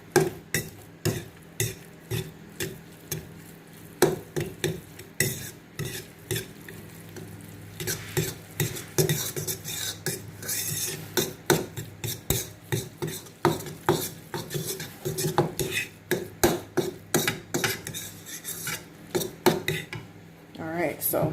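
Honey BBQ wet rub for pork being stirred in a bowl with soy sauce added, giving steady, close scraping and clinking of a utensil against the dish in a repeating rhythm, with no talk.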